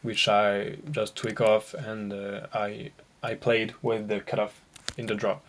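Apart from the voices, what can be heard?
None of the usual background noises is heard.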